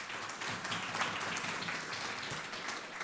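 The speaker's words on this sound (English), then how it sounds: "round of applause for Rachel." An audience at a food access and healthy eating event applauds with a dense, even burst of many hands clapping throughout, fairly loud and without speech.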